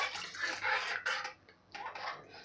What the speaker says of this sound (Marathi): पाणी घालताना हे गरम पाणी घालायचं आहे